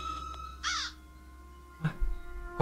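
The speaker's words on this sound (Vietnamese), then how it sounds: "Có tiếng con chim anh ơi." A crow caws in the Vietnamese horror video game Thần Trùng, one clear close caw followed by sharper bursts over a low, steady ambient hum.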